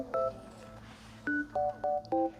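Telephone keypad tones at a long-running family hair salon taking bookings: a short beep, a pause, then a run of four evenly spaced dial tones, close and clear with no talk.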